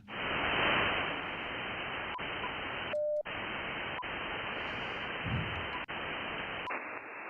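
Dense hissing static from an HF amateur radio receiver tuned to the 20 meter band, loud and continuous with a brief steady tone and short clicks and dropouts partway through.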